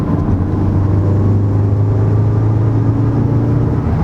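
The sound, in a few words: VW Golf R exhaust revving in race mode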